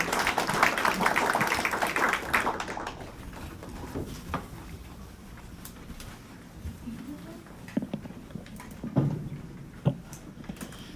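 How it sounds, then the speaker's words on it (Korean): Applause welcoming a speaker at a biosecurity symposium on avian influenza, a dense burst of clapping that dies away within a few seconds, giving way to quieter sounds and a voice speaking. "박수로 맞아주십시오."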